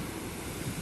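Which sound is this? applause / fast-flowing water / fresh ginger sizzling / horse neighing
fast-flowing water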